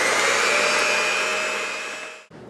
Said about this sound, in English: all we want to do is turn on the hand mixer and mix for about,